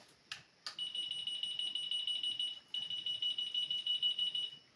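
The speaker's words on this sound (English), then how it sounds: "your key finding buzzer, which works pretty well." A rapid high-pitched electronic beeping pulses continuously, pausing once briefly before resuming, fairly faint, with a couple of clicks at the start.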